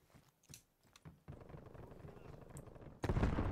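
Gunfire rings out in the video game Call of Duty Cold War, a few scattered sharp shots followed by steady, rattling fire and a louder burst at the end, with no talking.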